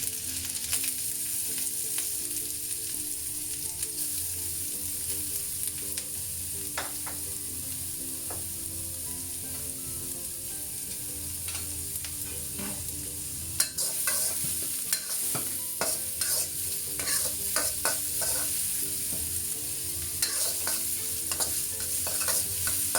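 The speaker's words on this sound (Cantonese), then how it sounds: "好啦，咁我哋爆香咗啲嘢先，薑米同埋甘筍。" Continuous sizzling of minced ginger and carrot stir-frying in a hot pan, with scattered clicks and scrapes of a utensil stirring, close by, no talking.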